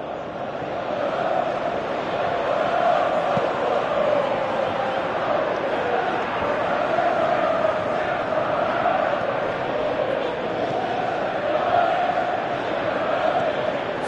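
A simulated stadium crowd in the football game PES 2018 roars and chants in a continuous wash of noise, swelling slightly in waves at a steady distance for the whole stretch.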